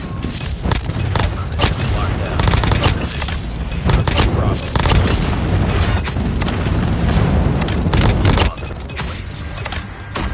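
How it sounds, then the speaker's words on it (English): Friendly airstrike in the mobile shooter Call of Duty Mobile, a rapid series of heavy booms and crackling blasts over about ten seconds, loud and dense with gunfire mixed in, and a game voice heard in the background. "Friendly airstrike incoming."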